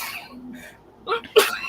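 A single sharp sneeze bursts out near the end, preceded by a couple of soft breathy sounds.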